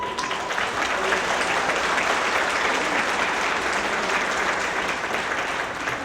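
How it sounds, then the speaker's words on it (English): An audience applauds steadily at an evening event at the Martin Luther King Jr. Freedom Center, a dense, even wash of clapping that holds at full strength for the whole stretch. "please give your applause to Jabari Lachelle."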